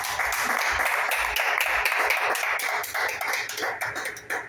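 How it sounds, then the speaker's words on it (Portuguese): A church congregation applauding, with dense clapping from many hands and some louder individual claps, close and continuous for a few seconds before it thins out near the end. "Aplauda Jesus."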